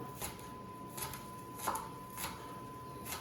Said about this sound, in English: cutting them up and then chopping because I don't want big chunks of green onion